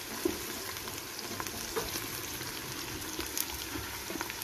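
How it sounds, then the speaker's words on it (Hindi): Masala sizzling steadily in a pan for a lauki chana dal, a continuous soft frying crackle with a few faint clinks of stirring, no voices. "अब जैसे ही ये मसाला भूनूंगी उसके बाद ये लौकी शामिल करूंगी"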